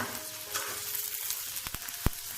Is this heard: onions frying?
yes